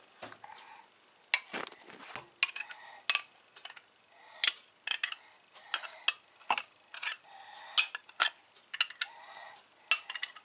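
A spoon stirring muffin batter with apple sauce in a bowl, a sequence of irregular clinks and scrapes against the bowl, close and fairly quiet with no talking.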